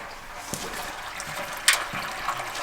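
Oil mixed with water drains and trickles from a Case 1830 skid steer, a steady close liquid splash with small spatters and no talking.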